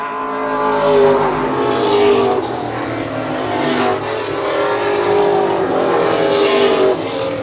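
Race cars roar around a racetrack during the Boss Hogg 150, engines loud and close with rising and falling revs as cars pass in tight succession over steady crowd-level ambience.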